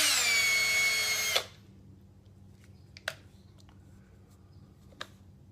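A power drill whines loudly at high speed for about a second and a half while spinning a homemade fishing line unwinder of wood and PVC pipe, then cuts off, leaving quiet room tone with a couple of faint clicks.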